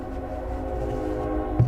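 A train horn sound effect sounds as a sustained, steady multi-tone blare held for under two seconds, ending with a brief thump.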